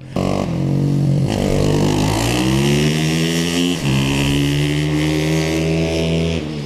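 A YCF prototype supermotard motorcycle screams around a track, its engine note rising loud and close through the gears, dipping briefly at a shift before climbing again in a continuous high-revving whine.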